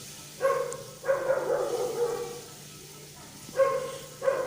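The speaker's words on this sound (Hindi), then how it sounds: "बैकग्राउंड में डॉगी की आवाज़ आ रही है," A dog barks repeatedly in the background of a kitchen where traditional Pakistani chicken pulao is being cooked, giving several tonal, moderately loud barks in two clusters with a pause between.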